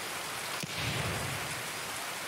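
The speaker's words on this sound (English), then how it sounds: "it's nothing but rain" Steady rain pours across the whole stretch in the Escape from Tarkov video game, a dense, even hiss with a brief dull thump early on and no voices.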